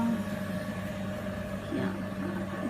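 A HydraFacial machine runs with a steady mechanical hum and tonal whine, constant and close, with a slight shift in pitch midway.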